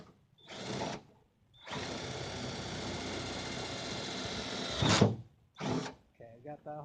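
A power drill whirs in short bursts while drilling holes to mount an aftermarket spoiler on a 1998 Eclipse GS, one long steady run rising in strain near its end, then another brief burst and a voice.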